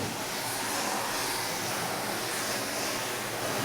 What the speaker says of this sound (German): am Zischen von dem Wasserstrahl zu hören, wie heiß der Boden vom Ofen ist